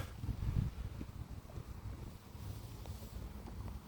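Gusty wind buffeting the microphone while pike fishing, with a rough low rumble that is strongest at the start, then settles into a steady outdoor rush.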